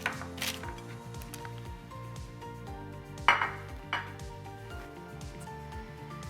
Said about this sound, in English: Now it's time to remove it from our pan. I'm gonna take it out, just flip it over.